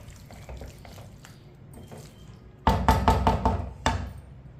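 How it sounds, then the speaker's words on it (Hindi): A spoon clinks and scrapes in a pot while spices are stirred into a chicken and tinda mixture, with soft wet scraping building into louder, rapid knocking strokes near the end, no talking. "थोड़ा सा चम्मच चला लेंगे, मसाले हमारे अच्छी तरह मिक्स हो जाएंगे"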